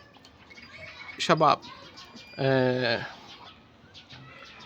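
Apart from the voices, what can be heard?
English lovebirds chirping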